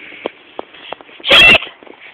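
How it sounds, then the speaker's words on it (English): A cat lets out one loud, harsh meow, close and brief, surrounded by softer scattered noises and faint shuffling before and after. "Oh, little cat in there."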